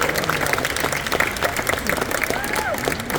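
A crowd at a BKFC Thailand 5 bare-knuckle fighting press conference applauds a fighter with steady, dense clapping and some cheering, with faint voices underneath.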